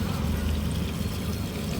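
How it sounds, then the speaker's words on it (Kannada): Water pours into a container, heard as a brief, quiet, low burbling fill that stays steady throughout. "ಹಿಂಗೆ ನಾವು ನೀರು ತುಂಬಿಸೋದು ಯಾವಾಗಲೂ."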